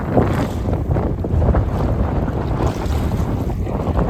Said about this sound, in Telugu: గాలి ఎక్కువగా వేస్తుంది చూడండి, మామూలు కాదు